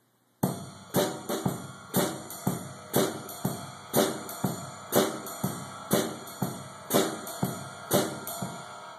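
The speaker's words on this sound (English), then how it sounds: "I'll turn around and I'll play the snare with the tip of the stick" Jazz groove on a drum set with the snare played using the tip of the stick, a steady run of crisp, bright strokes with ringing cymbal shimmer, close and clear with no talking.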